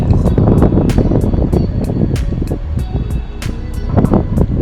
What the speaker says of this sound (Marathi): मस्त गार वारा लागतोय वर